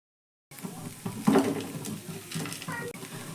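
A spoon works through ingredients in a bowl, with chili flakes just added, giving soft scraping and a few light clinks against the sides, moderately close and fairly quiet.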